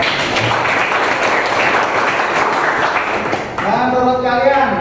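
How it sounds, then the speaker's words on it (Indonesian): Classroom applause from students during a teacher's lesson in an Indonesian school, a dense patter of clapping that gives way near the end to a voice speaking over the fading claps. "Oke, tepuk tangan."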